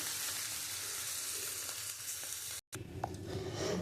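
Fish roe and ivy gourd fry together in a pan with a dense, steady crackling sizzle, cut by a brief silent gap, then resuming with a few clinks of stirring.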